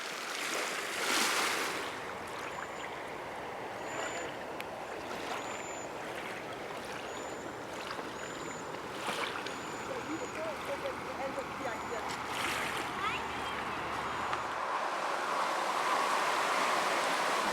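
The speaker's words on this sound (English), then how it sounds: "Stones the size of eggs are tossed on shore and are pulled back out, their hard and smooth surfaces colliding and clicking like the sound of a Geiger counter" Waves wash egg-sized, hard, smooth stones up and back along a Lake Superior shore in a continuous hiss of surf with scattered clatter, while a voice talks over it.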